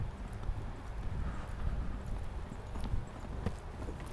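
A horse moves at a steady walk during a riding lesson, its hooves clip-clopping in an even rhythm, soft and a little distant, under low background noise with no clear talk.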